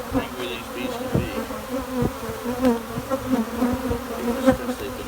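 Agitated bees buzz close by during a bee rescue, with overlapping drones rising and falling as individual insects swoop past, loud and restless.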